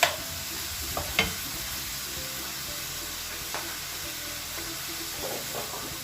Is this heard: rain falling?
no